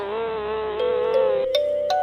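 A small, thin buzz of a queen bee, a continuous droning tone that shifts in pitch and is punctuated by a couple of short clicks, close and fairly clear with no voices.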